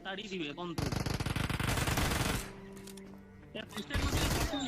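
Rapid automatic gunfire from a PUBG video game firefight rattles in dense bursts, then gives way to quieter game sounds before more sharp shots return near the end.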